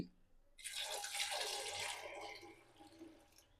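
Half a litre of water pours steadily into a cooking pot holding potatoes, a close, continuous splashing gush lasting a few seconds before it gradually thins out.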